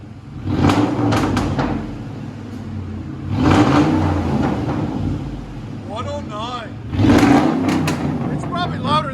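A 2005 Ford F-150 King Ranch with a 5.4L Triton V8 and true dual straight-pipe exhaust revs hard toward 4,000 RPM in three loud surges with idle between, while people talk nearby.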